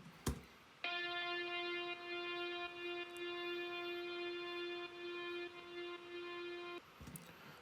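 An amped guitar patch built in Logic Pro sustains a single root note for about six seconds, steady and harmonically rich, framed by brief percussive hits at the start and end.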